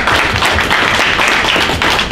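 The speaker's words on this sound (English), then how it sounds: "Can we round of applause please for Ivan?" A crowd at a livestreamed event applauds a speaker, steady continuous clapping filling the room, loud and close with no break.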